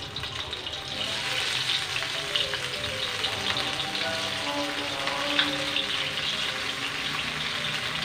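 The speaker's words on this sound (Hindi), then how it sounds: "अब हम इसे फ्राई कर लेंगे। ऑयल हमारा तो गर्म हो चुका है।" Marinated fish pieces, two at a time, frying in hot oil for a Lahori fish fry, giving a steady, close crackling sizzle that holds evenly throughout with no talking.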